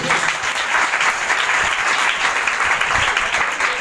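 A congregation claps at a church service during the Feast of Tabernacles, dense sustained applause from a crowd filling the room for several seconds, loud and close with no talking.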